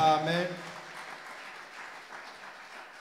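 A church congregation clapping as an offering during a bilingual French and English service, a brief burst of applause fading under a voice and hall ambience.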